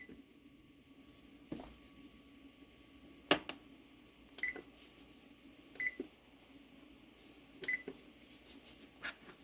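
A kitchen timer is set for one minute while making no-bake peanut butter chocolate cookies: several short, quiet electronic beeps come a second or two apart over low background hum, with faint clatter and no speech.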